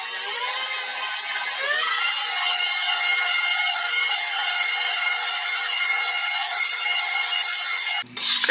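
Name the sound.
mixing flour and baking powder dough in a bowl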